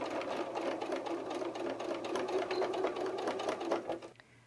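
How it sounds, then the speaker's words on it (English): A sewing machine stitches a fabric dart on a soft-toy bear, giving a rapid, steady mechanical whirring that runs alone for about four seconds before stopping abruptly. "This could be really difficult in your sewing machine"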